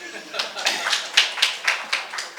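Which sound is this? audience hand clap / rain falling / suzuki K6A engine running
audience hand clap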